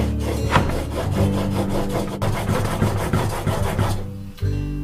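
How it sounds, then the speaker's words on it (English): A plane blade is rubbed back and forth on a 1000 grit sharpening stone, close rhythmic gritty scraping strokes that stop near the end before a dull knock. "we're going to move on to 1000 grit and do it again."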